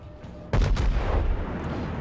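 Battleship artillery fire in World of Warships, a Tirpitz and Nagato shooting: a sudden heavy boom followed by a second blast and a long rumbling decay.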